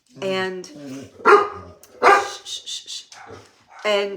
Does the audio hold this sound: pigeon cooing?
no